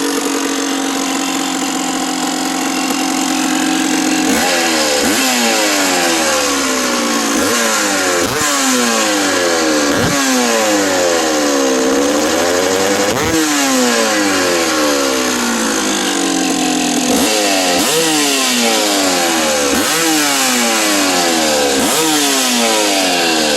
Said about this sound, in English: Got a really good high rev with the choke on.